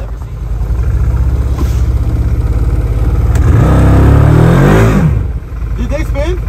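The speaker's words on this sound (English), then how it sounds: "Looks like that side-by-side got stuck out there." A side-by-side UTV stuck in snow beside an Iditarod trail revs its engine hard, the pitch climbing and swelling to a loud peak before dropping off, then idling again, with voices nearby.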